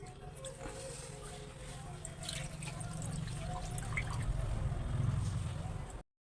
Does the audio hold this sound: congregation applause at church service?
no